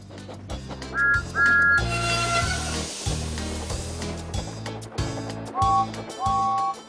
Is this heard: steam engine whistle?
yes